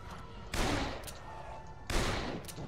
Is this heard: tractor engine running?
no